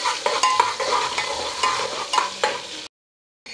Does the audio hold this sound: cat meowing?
no